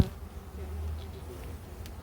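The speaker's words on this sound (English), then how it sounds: "Do you know about how many bees are flying around us right now?" Many bees fly around beekeepers working at an open hive, making a low continuous buzzing drone that stays steady and fairly faint throughout, with no clear voices.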